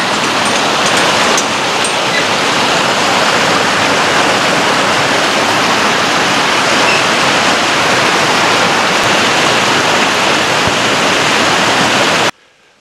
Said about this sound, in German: Da ist ja auch Bach da unten.